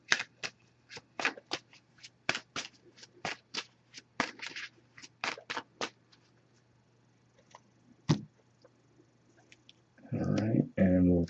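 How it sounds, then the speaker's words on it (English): Tarot and oracle cards riffle-shuffled in quick crisp bursts, a steady run of snapping flutters, then a pause, a single slap, and a final rustling shuffle close by. "I'm just going to give this a few shuffles here."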